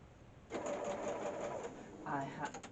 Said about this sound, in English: and then just sew along your line